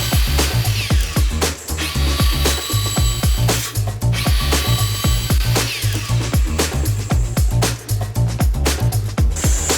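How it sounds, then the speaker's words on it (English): A sliding miter saw fitted with a metal cutting blade cuts through PVC pipes, giving loud, dense, harsh grinding broken by rapid rhythmic clattering impacts that run steadily through the whole stretch with no voices. "I used a metal cutting blade on my sliding miter saw."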